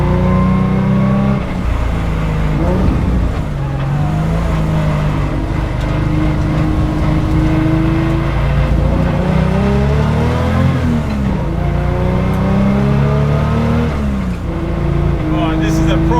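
A restomod Porsche 911 engine drones and revs continuously up close, pitch rising and falling through gear changes as it climbs the Oberalp Pass, with a voice talking over it.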